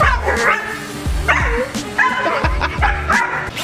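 A dog barks over and over at a small, cheap toy drone flying indoors. The barks are loud, close and sharp, coming in a fairly steady rhythm over a constant whine.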